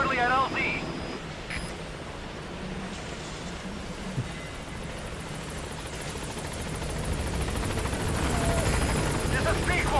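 Pequod helicopter from Metal Gear Solid 5 approaching a landing zone, a steady broadband rotor and engine roar that swells slightly toward the end, with voices talking over it.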